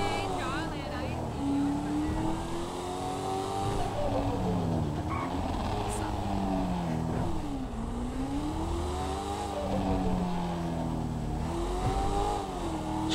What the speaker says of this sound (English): Got that little pop tune on the exhaust.